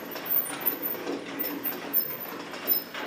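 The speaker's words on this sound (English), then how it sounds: "now we're going to crank the bow back to its full draw position." Bowsmith Pro bow press cranking a bow back to full draw, a quiet series of close mechanical clicks and ratcheting ticks in an irregular rhythm.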